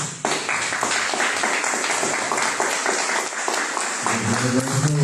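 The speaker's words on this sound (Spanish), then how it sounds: "Vamos a recibir, por favor, al contador con fuertes aplausos." Forum audience gives strong applause to welcome a speaker, a thick, steady roar of clapping that fills the room, with a voice beginning to speak at the very end.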